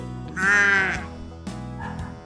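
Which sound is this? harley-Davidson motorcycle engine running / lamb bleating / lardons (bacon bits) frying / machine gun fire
lamb bleating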